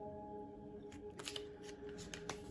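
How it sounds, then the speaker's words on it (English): A tarot card deck being shuffled, with quick riffling bursts and soft flutters, close and faint over a quiet background. "Let's get things shuffled up and expand off this."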